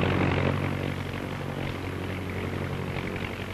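A large propeller aircraft drones steadily during aerial refueling, a dense continuous engine roar with a faint pulsing throb, loud and unbroken with no voices.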